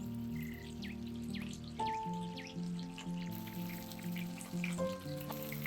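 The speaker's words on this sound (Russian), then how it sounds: "пока курица жарится на среднем огне" Chicken breasts frying in a pan over medium heat, a steady close hiss and crackle with scattered sharp pops, running continuously with no voices.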